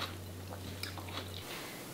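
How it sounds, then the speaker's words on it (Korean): Crunchy seasoned mung bean sprouts being chewed, a few soft crisp bites close to the mic over a faint low hum, with no talking. "숙주나물이 아삭아삭하네요."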